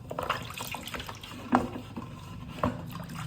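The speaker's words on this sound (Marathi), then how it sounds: "नळाखाली चांगल्या पाण्याने एकदा स्वच्छ धुवून काढायचं" Dishes being rinsed under a running kitchen tap, a steady wash of flowing water with a few brief clinks and splashes standing out, close and fairly quiet with no voices.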